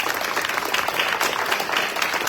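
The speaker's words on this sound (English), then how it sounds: "Audience, please give a round of applause for position 2." Audience applause for a Katy ISD school board candidate at a forum, a short, steady burst of clapping from a room of people, even and continuous with no voices over it.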